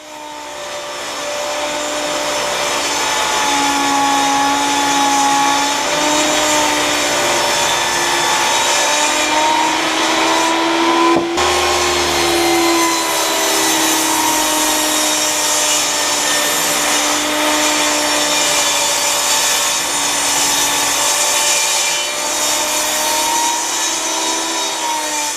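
Power saw ripping 1x6 wood boards down to four inches, a loud, sustained whining cut with a constant high buzz for over twenty seconds and a brief knock partway through.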